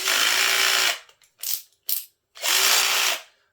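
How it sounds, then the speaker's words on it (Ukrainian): Bursts of rapid mechanical ratcheting from the clutch of a Kraissmann 2133 impact cordless drill, a long buzzing run, two short clicks, then another long run, loud and close. "Це коли працює трещітка."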